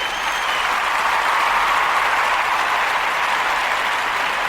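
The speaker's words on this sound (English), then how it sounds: "hey, round of applause, man" A steady round of crowd applause, dense and even, keeps up for several seconds at a consistent loud level with no voices over it.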